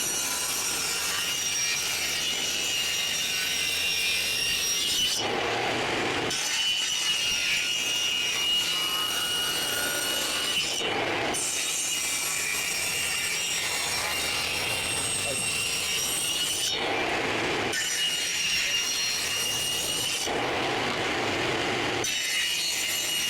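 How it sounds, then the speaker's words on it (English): Table saw ripping wood boards with the blade set a quarter inch from the fence, loud and continuous across several passes, with short gaps between cuts where the cutting noise drops. "I'm gonna start ripping them."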